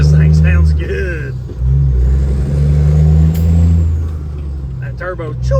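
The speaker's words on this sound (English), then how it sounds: "That turbo, choo!" A heavy Freightliner cabover truck engine drones loudly with a rising turbo whine and shifting revs as it pulls, while people talk briefly over it.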